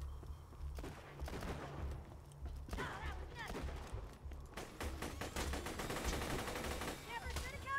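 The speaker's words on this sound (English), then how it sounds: "I just tried to shoot your turret." Gunfire in the video game Borderlands 2 as a player shoots at a turret: rapid bursts of automatic fire and ricocheting shots over a low droning game soundtrack, with players talking over it.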